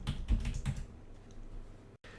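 A computer keyboard being typed on: a short quick burst of several key clicks, close and moderately loud, then quiet.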